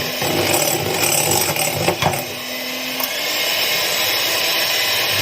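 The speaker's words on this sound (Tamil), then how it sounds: "மறுபடியும் நுர பொங்க அளவுக்கு நல்லா அடிக்கணும்." An electric mixer whirs at high speed, beating eggs and sugar until foamy, with a steady buzzing hum and rattling clinks of the beaters against the bowl, broken by a brief knock before the whirring continues.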